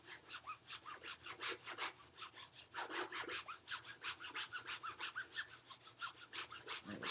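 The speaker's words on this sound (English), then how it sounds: "you can hold the shoe between your knees like this and start polishing" A shoe held between the knees is polished with quick back-and-forth brushing strokes, a steady, close rhythmic rubbing that goes on throughout with only a brief pause.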